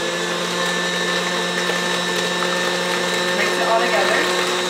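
An electric mixer whirs steadily on high, beating carrot cake frosting with a constant whine and faint rattling from the bowl, close up, while a voice speaks softly over it.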